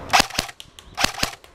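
Four sharp semi-automatic gunshots fired at targets behind a garage, spaced unevenly in two pairs, loud and close with short decays and no talking.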